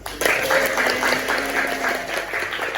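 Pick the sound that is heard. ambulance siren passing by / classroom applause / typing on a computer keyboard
classroom applause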